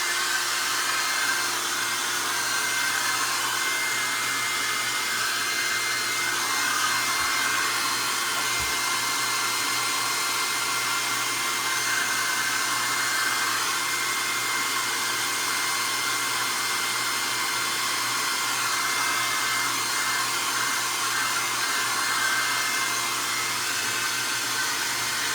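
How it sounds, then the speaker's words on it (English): A hair dryer blows steadily onto a freshly painted canvas, a loud, continuous whirring hiss with no breaks, close to the listener. "So I'm going to rinse my brush and hit this with a hairdryer as well."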